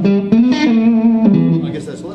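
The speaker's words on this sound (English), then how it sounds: "Not a whole lot of distortion until I hit the overdrive." An electric guitar plays through a Goldfinger amp with a late-60s Plexi-style tone and the overdrive engaged. Sustained, distorted notes ring loud and close with a buzzy edge.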